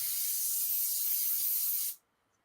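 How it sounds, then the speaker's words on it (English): Hairspray hisses from an aerosol can onto model kit parts in one steady close burst lasting about two seconds before stopping abruptly. "Now I'll go over them again with the hairspray after."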